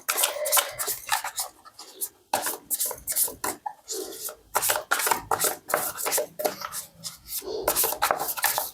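Tarot cards riffled and shuffled by hand, a steady stream of close, papery flicks and slaps with brief pauses between bursts.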